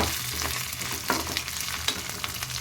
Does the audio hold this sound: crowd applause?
no